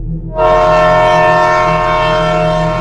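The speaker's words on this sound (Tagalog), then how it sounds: "At sa isang iglap, may malakas na busina." A loud, sustained horn from a large truck blares suddenly on a road and holds steady for a few seconds, harsh and close.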